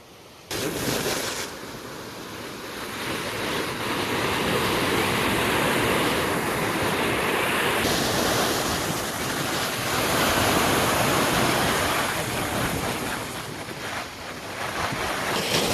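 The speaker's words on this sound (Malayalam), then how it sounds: "ഉണ്ടോ നമ്മുടെ വെള്ളച്ചാട്ടം?" A hidden waterfall near Payyanur in Kannur sends out a loud, continuous broadband roar of rushing water, heard close and steady, with wind buffeting the microphone.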